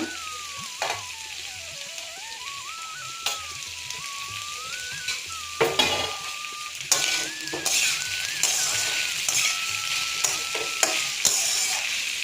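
Potato, carrot and other vegetables fry in a pan with a steady background sizzle, while a spatula scrapes and clacks against the metal in irregular bursts of stirring.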